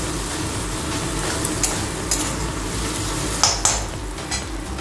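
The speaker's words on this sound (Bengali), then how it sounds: "যাতে রসুনের কাঁচা স্মেলটা যাতে না থাকে, একটু আঁচ কমিয়েই ভেজে নেবো" Garlic and spices fry in a pan over lowered heat with a steady, close sizzle. A utensil scrapes and clinks against the pan a few times as it stirs.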